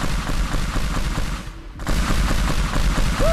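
Dense, continuous video game gunfire in a sandbox mode, loud and rapid with booming blasts, pausing for a moment before resuming, with no talking.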